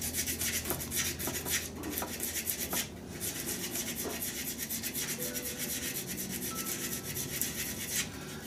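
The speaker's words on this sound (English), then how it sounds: "you've got to sand in all the different directions to make sure that you get all the scratches out" Sandpaper rubs back and forth over a clear epoxy resin shaving brush handle, a steady, continuous rasping scrape with rhythmic strokes and a brief pause near the middle, fairly quiet and with no talking.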